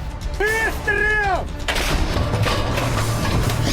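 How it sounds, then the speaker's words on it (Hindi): Sharp bursts of machine-gun fire and heavy booming blasts in the Russia-Ukraine war, loud and continuous, with a wailing siren-like tone rising and falling early on. "कहीं गन मशीनें गरज रही हैं।"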